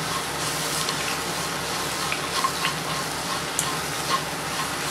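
Fried asafoetida is stirred into elephant yam pickle in a pan, giving a continuous soft sizzle with light scraping and occasional small clinks, steady and close.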